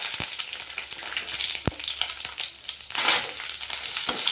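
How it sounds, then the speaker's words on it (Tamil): Garlic, curry leaves and small shallots fry in oil for tomato chutney, a continuous close sizzle with stirring scrapes and a sharp knock of the spoon against the pan partway through. "அப்படியே ஃப்ரை பண்ணிக்கலாம் நண்பர்களே."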